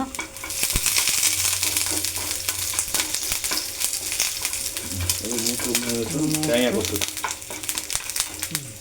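Coconut pieces frying in a pan with dried red chillies and curry leaves, a dense continuous sizzle with occasional clinks, fairly loud and close.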